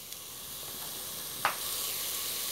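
Ingredients for an Isan-style chicken curry with old-style winter melon stir-fry in a pan, a soft steady hiss with one sharp scrape midway, after which the sizzle grows louder and fuller.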